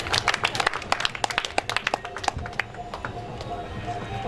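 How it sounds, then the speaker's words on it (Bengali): Audience clapping at a school hostel party prize-giving, a dense burst of many hands that thins out over a few seconds, with voices in the background. "তালি জোরে করো তালি"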